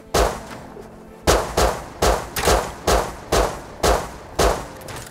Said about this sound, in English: He's returning fire!